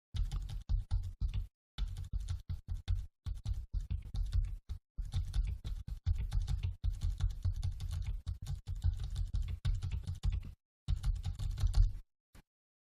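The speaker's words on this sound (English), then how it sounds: "The new keyboard is a bit more silent." Rapid, fairly quiet key clicks of typing on the keyboard of a Focus 40 braille display, in bursts separated by short pauses, close up with no talking.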